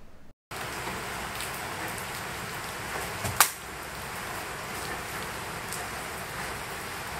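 Steady, dense rain hisses continuously in Laos, with one sharp tap partway through; no voices are heard.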